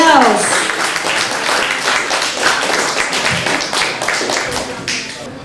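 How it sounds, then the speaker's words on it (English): Applause from the audience at a Hataw Pinoy Chicago Bayanihan Foundation event, greeting the Villaruel performers. Steady clapping fills the whole stretch, with voices mixed into the crowd noise. "let's give a round of applause to the Villaruels"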